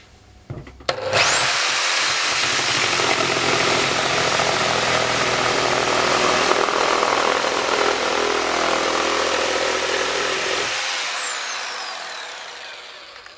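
A Bosch GSA1100E reciprocating saw cuts continuously up close for about ten seconds, a loud, steady buzzing roar with a high motor whine that winds down as it stops.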